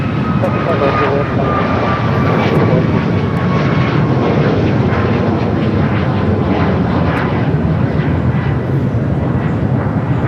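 Boeing 757 airliner at LAX on the north side, its engines roaring loud and steady throughout, with a faint whine drifting across, while a radio voice talks over the noise.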